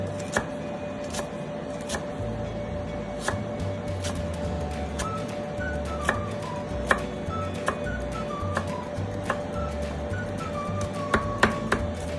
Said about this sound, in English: Fine chop the cilantro.